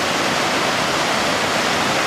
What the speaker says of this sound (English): it's where the Hugo River and the Cuvier River meet